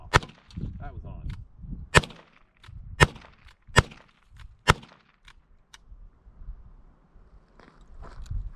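Five sharp, evenly spaced shots from an FN 509 Tactical pistol during quick-draw shooting outdoors, each a loud crack roughly a second apart, with quieter handling noise between.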